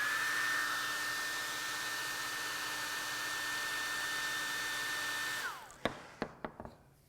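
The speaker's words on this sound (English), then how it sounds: "if the hairdryer is sitting like this, the air is coming up" A hair dryer blows upward with a steady whooshing roar and a high whine, floating a ball in a Bernoulli lift demonstration, then switches off, followed by a few light knocks and clatters.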